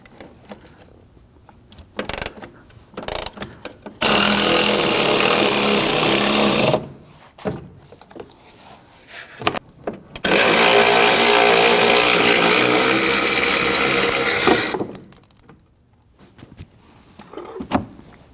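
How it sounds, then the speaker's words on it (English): A ratchet loosens and removes a front strut bolt inside the wheel well of a 2009-2017 Volvo XC60, heard as two long, loud, steady mechanical whirring bursts close up, separated by quieter clicks and handling noises. "with the other hand we're going to loosen and remove the bolt the rest of the way"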